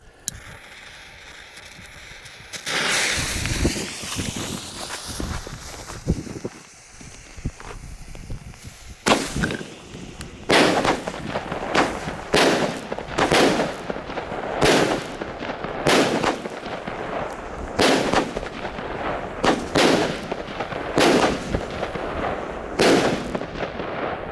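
A Red Peony TXB462 Triplex fireworks cake fires a long volley of loud 20 mm shots outdoors, with a dozen or so sharp bursts spaced about a second apart after an opening launch and crackle.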